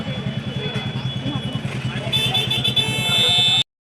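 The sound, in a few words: road traffic, vehicles passing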